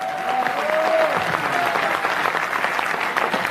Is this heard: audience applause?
yes